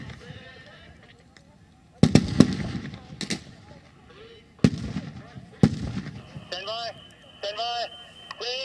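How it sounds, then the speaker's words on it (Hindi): A grenade goes off inside a house during an NSG commando room-intervention demonstration at the Manesar foundation day event, heard as several sharp, loud blasts spaced apart, with a voice talking throughout. "इस वक्त एक ग्रेनेड लॉन्च किया गया घर के अंदर, एक धमाका आप देखिए"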